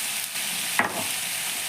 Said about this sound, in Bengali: দিয়ে এবার আমি ঢাকা দিয়ে স্কোয়াশটাকে সুন্দর করে ভেজে নিচ্ছি